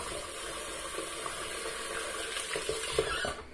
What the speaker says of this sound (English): So rinse that off. Wash off real quick. Warm water.